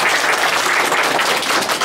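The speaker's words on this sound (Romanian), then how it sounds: "Să le aplaudăm." Applause from an audience at a book launch in Slobozia, honouring librarians from villages of Ialomița county; dense, steady clapping fills the whole stretch at close range with no voices over it.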